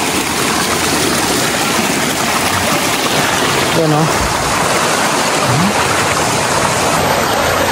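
Cold, clear spring water from Mount Banahaw rushes over large rocks in a river. The flow is a steady, loud hiss throughout, and a brief voice speaks over it midway.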